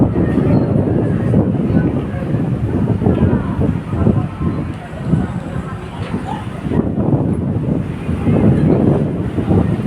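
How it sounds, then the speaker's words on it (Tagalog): Wind rushes across a seaside esplanade on a hot day, a loud continuous low rumble with gusts rising and falling across the whole stretch. "Talagang fresh na fresh ang hangin dito."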